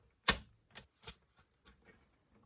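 Paper trimmer cutting a small piece of card stock for a Stampin' Up card, a sharp close click followed by a few soft taps and slides, brief and quiet.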